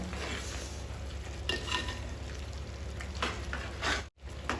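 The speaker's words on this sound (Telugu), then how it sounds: "కుండలో వండితే నాకు కలిపిన కొద్ది నుంచి కలపాలనిపిస్తుంది ఇట్లా" Chicken fry stirred in a clay pot, with a steady sizzle and frying hiss under repeated scraping strokes of a spoon against the pot, close and continuous.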